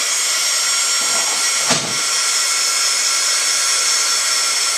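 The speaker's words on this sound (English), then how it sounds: "go ahead and dry that with a heat gun" A heat gun blows a steady loud hiss of hot air over stamped ink on paper, continuous and close throughout with one brief dip in the middle, no talking.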